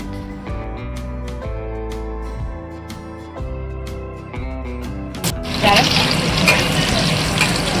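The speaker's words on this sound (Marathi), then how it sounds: "7-8 पाकळ्या लसूण आणि अर्धा इंच आलं आपण ठेचून घेतलं होतं ते छान आपण तेलामध्ये परतून घेऊया" Crushed garlic cloves and ginger sautéing in hot oil while cooking palak dal, a steady sizzle that swells into louder, denser frying near the end, with no talking.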